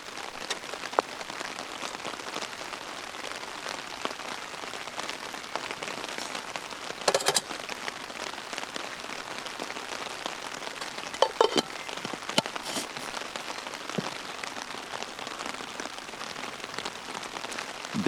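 Steady rain patters on a surface at a camping site, a dense even hiss with occasional louder drops, no voices.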